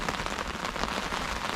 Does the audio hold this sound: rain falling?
yes